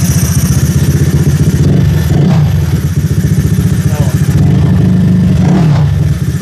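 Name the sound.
Honda Click 190cc scooter engine revving on throttle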